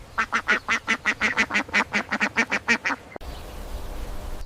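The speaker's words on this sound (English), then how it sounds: "This is a small black farm duck." A small black farm duck quacks about sixteen times in a quick, even run of loud, close calls, then falls quiet against faint background noise.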